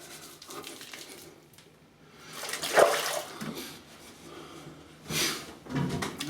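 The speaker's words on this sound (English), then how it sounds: "I'll rinse off with some hot water and cold water" Running water splashes in a bathroom sink as a freshly shaved face is rinsed with hot and then cold water, the broadband gush rising and falling in a few separate bursts with faint handling noise in between.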